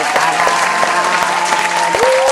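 Brief applause in a podcast studio, a small group clapping close by with a steady patter over a faint tonal hum, lasting only a couple of seconds.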